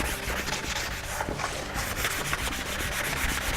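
A sanding sponge rubbing over a wooden cabinet door, folding around edges and detail, making a steady, close, scratchy scrubbing with quick back-and-forth strokes and no voices.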